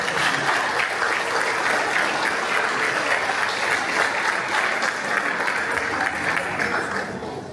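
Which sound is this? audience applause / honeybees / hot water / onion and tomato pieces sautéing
audience applause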